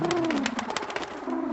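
A trained pigeon in a cartoon takes off from its trainer with steady, close cooing and rapid fluttering pulses across the short stretch, heard alone without talk.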